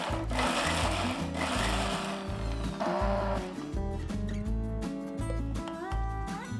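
A mixer grinder churns garlic and curry leaves with a couple of spoons of oil, its motor droning steadily with a loud, pulsing whir that throbs in regular beats from start to finish, with no voices.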